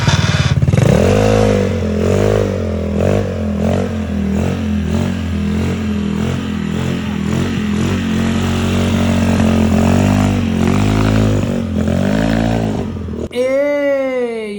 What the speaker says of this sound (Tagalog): Dahil umaandar na yung motor, hindi pwedeng hindi natin te-testingin yan